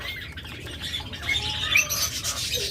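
Small caged pet birds, including budgerigars, lovebirds and diamond doves, chirp and squawk in a busy, overlapping chatter, fairly close and continuous, with faint rustling beneath.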